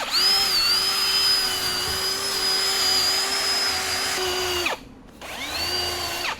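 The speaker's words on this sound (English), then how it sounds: "Let's hit it with a wire wheel." Wire wheel on a power tool cleans a weld on a 5th gen RAM 2500 diesel exhaust, a loud steady high whine and grinding hiss that stops briefly near the end and then spins up again.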